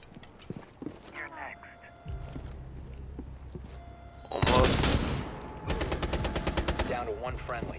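Rapid bursts of video game gunfire, loud automatic volleys crackling near, with a voice talking in between.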